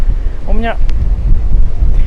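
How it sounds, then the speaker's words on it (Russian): Strong wind on a beach in Spain roars and buffets the microphone continuously, a loud low rumble, with a short voice briefly heard partway through. "Здесь дует сильный ветерок, поэтому народу много нет."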